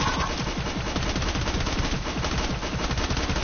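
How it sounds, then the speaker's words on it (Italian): Rapid automatic gunfire in a multiplayer video game, a dense continuous burst of shots at steady loudness throughout, with no speech. "Perché spari a Gesù?"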